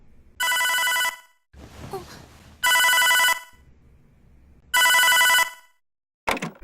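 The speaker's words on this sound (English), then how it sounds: "But then, she gets a phone call." A phone rings in three long electronic trills separated by pauses, with faint rustling and low noise in the gaps between rings.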